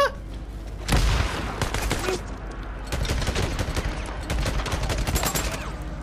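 Rapid gunfire crackles through a Days Gone game battle, punctuated near the start by a heavy, booming grenade blast, with bursts of shots continuing loudly and densely afterward.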